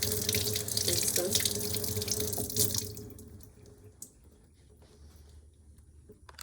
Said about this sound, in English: I'm just gonna go ahead and rinse them off